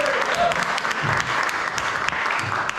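An audience at a live performance applauds with dense, sustained clapping, cheers and whistles breaking through, and a voice faintly audible beneath the crowd.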